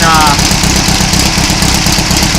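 An 1800 stroker engine with dual two-barrel carburetors and a baffle idles in a dune buggy, a steady, loud, slightly rough low rumble that runs throughout with no break.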